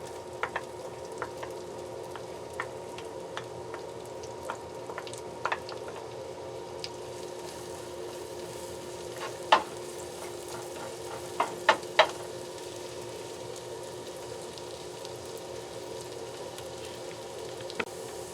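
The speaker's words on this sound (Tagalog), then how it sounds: "Lagyan natin ang ating bawang." Garlic frying in a pan for a creamy beef dish, a steady soft sizzle with occasional small pops and crackles, fairly quiet and without talk.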